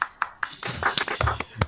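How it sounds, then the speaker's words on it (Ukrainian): Sparse applause from a small audience after a technical conference talk on Chef: a few separate claps that thicken briefly into light, scattered clapping. "Оплески."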